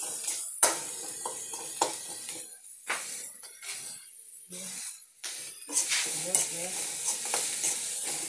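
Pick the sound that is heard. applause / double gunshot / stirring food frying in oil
stirring food frying in oil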